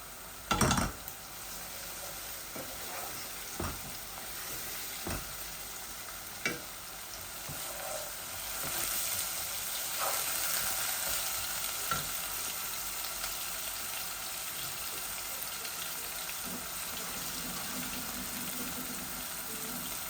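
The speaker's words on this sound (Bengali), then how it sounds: "দুটা এলাচি ফুটাইয়া দিলাইয়া" Two cardamom pods frying in hot oil give a faint, steady sizzle, with occasional sharp clinks and taps of a utensil against the pan.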